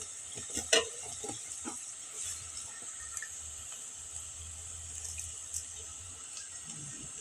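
Spices with salt, turmeric, chili and black cumin sauté quietly in a pan, a soft sizzle with occasional stirring scrapes and a sharper utensil knock near the start.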